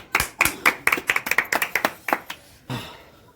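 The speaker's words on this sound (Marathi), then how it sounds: "टाळ्या वाजवा सगळ्या" A group of people clap in a quick, uneven burst of about a dozen sharp claps that thins out over three seconds, with one last muffled clap.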